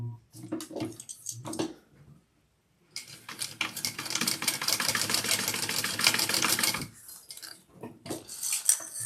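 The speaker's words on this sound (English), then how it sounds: "We're going to sew down those," A sewing machine stitches a backpack seam in one sustained run of rapid mechanical whirring, with short bursts and handling noises before and after.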